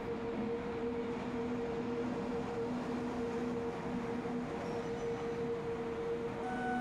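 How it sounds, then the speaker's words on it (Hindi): A locomotive in the Open Rails train simulator rolls along the main track with a steady, close rumble and a constant tonal hum, unbroken and without speech. "तो हमारा लोकोमोटिव आ गया है अपने मेन ट्रैक पर"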